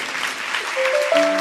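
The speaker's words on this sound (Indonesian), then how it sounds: "Kasih tepuk tangan tuh saudara kita." Applause from a church congregation during a sermon, a dense steady wash of many hands clapping, with a sustained tonal hum rising beneath it toward the end.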